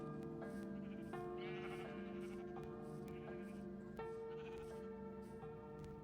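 Minecraft sheep bleating in a hardcore world, several wavering game bleats in succession layered over a constant tonal background, some overlapping as more than one animal calls.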